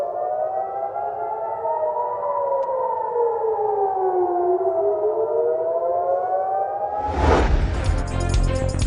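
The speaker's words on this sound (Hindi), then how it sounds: "वस्ती इसराइल और तल अबीब में खतरे के सायरन बज उठे" A wailing civil defense air raid siren in Israel rises and falls steadily, loud and alone, then a burst of broadband noise crashes in near the end.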